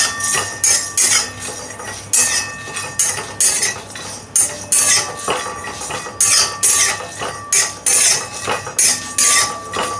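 Peanuts, white sesame seeds and coriander seeds dry-roasting in a hot wok, with repeated rattling, clinking scrapes of a spatula against the metal in an irregular, fairly loud rhythm, no voices.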